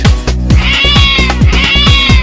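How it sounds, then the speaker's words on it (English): A cat meows loudly and close by, several quick, drawn-out calls repeating in rapid succession with no talking. "C for cat"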